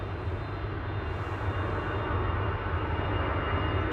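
An EasyJet airliner bound for Verona departs Manchester Airport in the background, a steady low engine roar that swells slightly and holds throughout.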